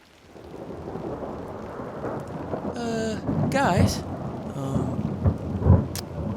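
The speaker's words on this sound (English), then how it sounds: "Bright bolts of lightning cracked and flashed angrily." Thunderstorm with steady rain and rolling thunder, a loud rumble building in the middle, with a brief voice speaking over the storm.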